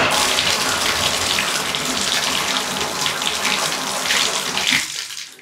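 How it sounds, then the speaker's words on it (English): Water runs steadily from a shower faucet freshly fitted with a replacement cartridge, a loud, continuous rushing spray that cuts off abruptly near the end. "Let's turn the water back on and turn this on to make sure it's working correctly."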